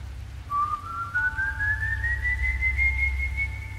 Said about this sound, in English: If his whistling sounds very loud, it means he is far away.